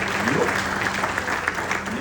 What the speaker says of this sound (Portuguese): Então aplauda o Senhor aí